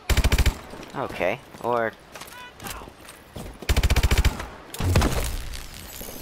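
Automatic gunfire from a weapon in Call of Duty Advanced Warfare crackles in two loud, fast bursts of evenly spaced shots, close and harsh, with a voice talking between the volleys.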